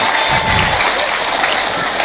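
A crowd at an Islamic religious gathering in Temanggung breaks into loud, sustained applause, a dense continuous wash of clapping close by with a hiss of crowd noise throughout.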